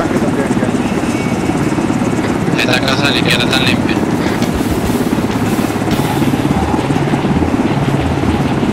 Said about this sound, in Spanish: Sí, en helicóptero.